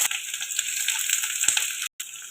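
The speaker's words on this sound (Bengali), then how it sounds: "পেঁয়াজ আর লঙ্কাটা ভালোভাবে ভাজা ভাজা করে নেব।" Chopped onion and green chili sizzle in hot oil in a kadai, a steady bright hiss with a brief cut-out near the end.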